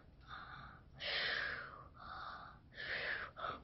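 A child imitates a person snoring, producing quiet breathy snorts and rasping inhales in slow alternating pulses, close to the microphone with no other sounds.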